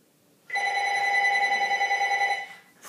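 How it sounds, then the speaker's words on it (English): A telephone rings in a classroom during a math lesson: a loud, steady electronic ring with a fast trill, running unbroken for about two seconds and then stopping. "Maybe somebody will get the phone."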